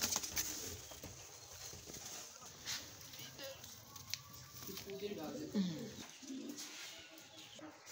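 Soft pigeon coos and fluttery pecking sounds as pigeons eat grain at moderate distance, with people talking intermittently over them and light background bustle.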